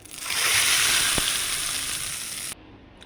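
Mustard seeds and curry leaves sizzle loudly in hot oil for a tomato chutney tempering, a steady bright crackling hiss that cuts off abruptly near the end, leaving a faint background.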